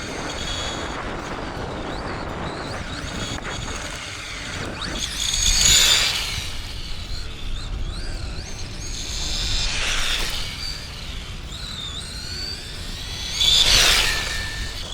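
A mini CEN Ford Puma Rally 1 RC car in Red Bull livery whines around a cold parking lot, its small electric motor rising in three loud high-pitched passes over steady background noise.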